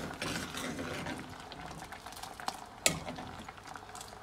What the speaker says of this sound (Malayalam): ഓക്കെ, തിളച്ചുകൊണ്ടിരിക്കുന്നു.